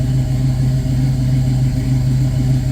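A 1966 Pontiac Catalina wagon engine fitted with Sniper fuel injection idles steadily off the throttle, a smooth, even low rumble with no skips, close and continuous.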